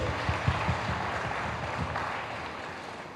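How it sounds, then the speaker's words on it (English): A roomful of Goan students at a school event in Bambolim applauds in a dense, steady patter of clapping, loudest at the start and tapering slightly toward the end. "Please, let's give him a round of applause again"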